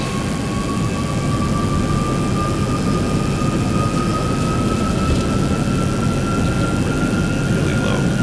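Aircraft engine in the X-Plane flight simulator droning steadily and loudly as throttle is added on a low glide-slope approach, a rising tonal whine layered over dense broadband roar throughout.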